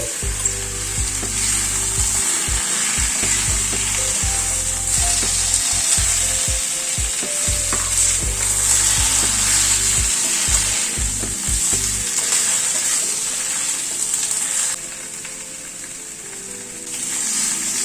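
Pointed gourd frying in mustard-poppy paste over a medium gas flame, sizzling steadily and loudly throughout while a spatula stirs and scrapes the pan in irregular knocks, with no talking.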